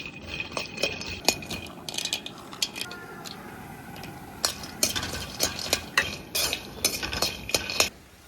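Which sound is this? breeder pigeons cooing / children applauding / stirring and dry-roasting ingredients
stirring and dry-roasting ingredients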